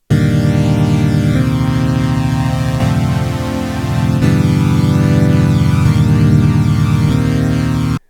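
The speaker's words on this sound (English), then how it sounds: "what you end up getting is basically a flanger" A flanger effect is applied to a sustained synth-like tone. The sweeping comb-filter whoosh rises and falls continuously and loudly for about eight seconds, with no voice.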